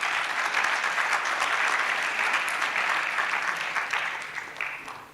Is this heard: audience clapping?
yes